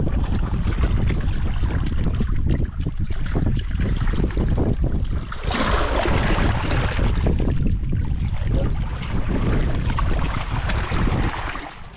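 Strong wind roars over a small fishing boat out on the water, a loud, dense, continuous rush that swells in a heavier gust midway, with no voices.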